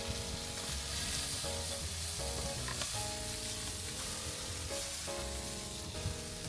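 Garlic herb butter basted onto chicken thighs on a barbecue grill sets off a loud, continuous sizzle and spitting crackle close up, with faint background tones running under it.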